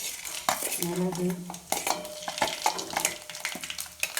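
A spoon stirs spices, cashews and curry leaves frying in ghee in a kadai for venn pongal, giving close, repeated metal scrapes and clinks over a soft sizzle.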